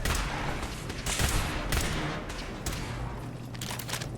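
Gunfire in a Fallout 4 firefight inside a control room, a few separate loud shots over a continuous rumble of combat, with no talk.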